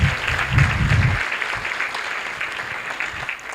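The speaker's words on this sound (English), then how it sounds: "it's only fitting to give our guests the last round of applause" An indoor audience at a meet and greet applauds its guests, starting as dense, loud clapping that thins after about a second into scattered, fading claps.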